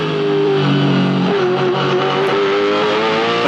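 A race car's engine on the Hamilton 400 street circuit holds a loud, sustained high-pitched note that shifts pitch as it changes gear, close and steady throughout.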